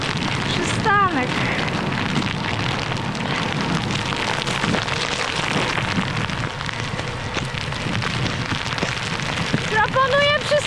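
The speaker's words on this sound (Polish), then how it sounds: "Niestety w deszczu." Steady, loud rain pours during a spring hike in the Kraków Valleys of the Polish Jura, a continuous dense hiss with occasional brief chirps or squeaks layered over it.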